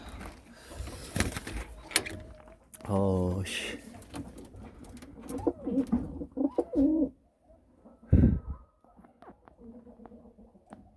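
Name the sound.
pigeons cooing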